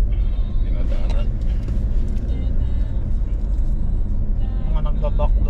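Car cruising along the usual highway in Quezon, Philippines, with a steady loud road rumble and engine drone, some passing traffic whooshes and occasional rattles.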